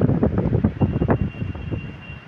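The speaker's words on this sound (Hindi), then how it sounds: "ओ भाई, क्या तेज हवा चल रहा है" Strong gusting wind buffets the microphone in cloudy weather outdoors, rumbling in irregular loud bursts that ease off toward the end, with no talk.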